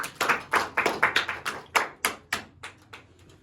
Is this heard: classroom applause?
yes